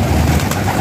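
Fancy pigeons in a pigeon garden give a low, throaty coo, loud and close, a single short rolling call over a steady background hum.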